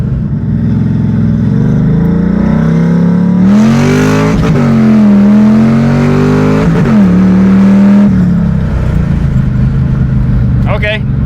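Car engine with a 4.56 rear gear revving hard in first gear, a loud close rising roar that climbs, dips briefly and climbs again before easing off, with a faint voice underneath.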